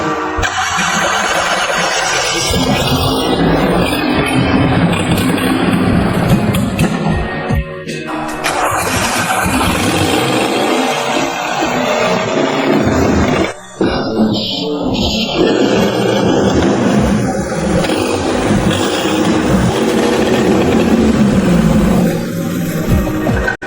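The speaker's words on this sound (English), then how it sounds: "Next, we're going to start the engine." A 1990 Daihatsu Hijet van's small engine cranks and fires up, then settles into a loud, steady running drone with a brief dip partway through; no one speaks.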